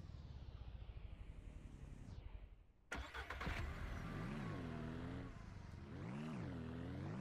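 A car engine in Ranch Simulator cranks with a rhythmic chugging, goes briefly quiet, then catches and settles into a steady idle with a few revs, loud and close.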